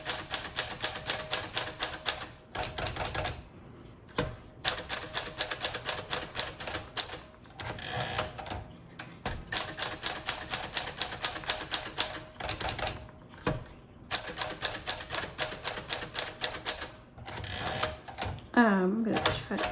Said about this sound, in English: it has that muffled feel and sound to it when I'm typing